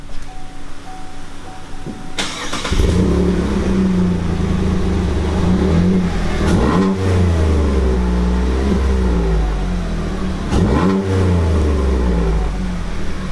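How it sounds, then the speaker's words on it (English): A 2018 Chevy Colorado pickup truck with stock exhaust idles, then revs hard several times, low rumbling exhaust swelling and dropping back between bursts, loud and close. "let's hear what it sounds like stock"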